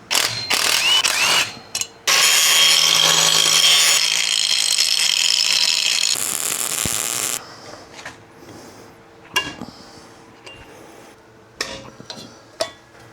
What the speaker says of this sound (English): Let's do some grinding and welding.